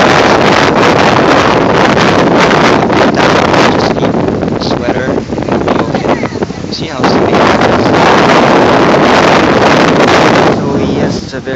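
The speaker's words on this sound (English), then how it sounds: "But the wind is chilly." Chilly wind on Gulangyu Island buffets the microphone in a loud, continuous roar with gusty swells, while a person speaks over it.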